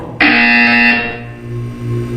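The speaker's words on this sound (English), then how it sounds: "When you hear the buzzer, look up at the ceiling." A loud, harsh electronic buzzer from the video game Portal 2 blares for under a second and cuts off, leaving a low hum.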